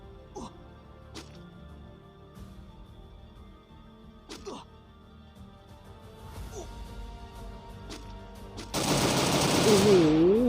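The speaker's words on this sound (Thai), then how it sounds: "เจอเอกยิงหัวพี่ต๋องไปแล้ว" Sharp bursts of gunfire from a Free Fire match, a few spaced shots cracking over a continuous background, with excited commentary speaking throughout and louder clamour near the end.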